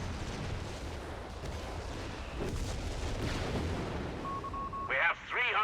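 Anti-tank pak guns firing volleys in the World War II strategy game Company of Heroes 3, heavy distant booms and rumbling blasts rolling under battlefield noise, with a short whistling tone and a brief voice burst near the end.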